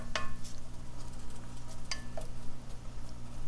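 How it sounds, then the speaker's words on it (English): Vegetables and onions sauté in salted butter for a green bean casserole, a low, steady sizzle with a couple of sharp spoon clinks against the pan, near and moderately quiet, with no voices. "So we're just gonna let these saute just until they're slightly cooked"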